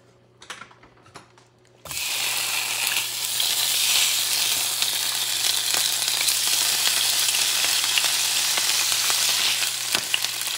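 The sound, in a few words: sardines frying in a pan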